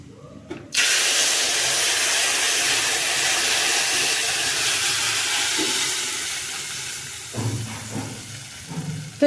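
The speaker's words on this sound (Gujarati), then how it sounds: "તો ચાલો આપણે દાળનો વઘાર છે એ કરી લઈએ અડદની દાળનો" Hot oil hisses up suddenly as urad dal is tempered in a home kitchen, a loud, steady sizzle that holds for several seconds, eases slightly, then gives way to a few light utensil clatters near the end.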